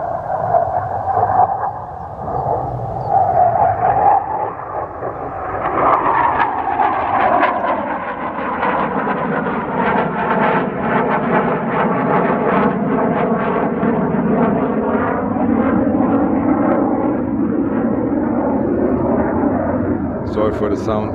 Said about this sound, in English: oh nice, we have a fighter overfly